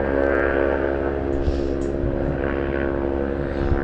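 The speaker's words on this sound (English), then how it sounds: "fantastic to see KLM training some of their pilots here" A KLM training aircraft flies circuits at Southend Airport, a steady continuous aircraft engine drone heard at a distance, holding fairly even in level throughout.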